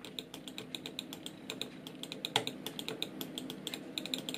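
Rapid, steady clicking of a regular, non-silent computer mouse, close and crisp, repeating in a quick regular rhythm over faint room noise.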